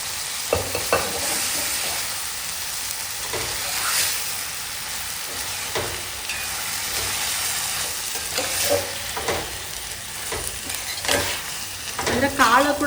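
Mung bean pulses frying and being stirred in hot oil in a pan for a home-style palya, with a steady sizzle under repeated scraping strokes of a spoon, close and fairly loud, no talking.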